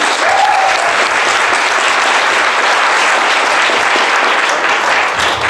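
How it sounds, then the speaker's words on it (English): Audience applause at a Jeunesse Global business opportunity presentation welcoming speaker Samson Lee; dense, steady clapping from a large crowd, loud and sustained throughout with no letup. "may all of you help me put your hands together for Samson Lee"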